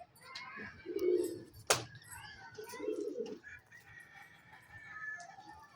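Soft low cooing calls from pigeons, two short bursts a couple of seconds apart, with a sharp click between and quiet outdoor ambience, no speech.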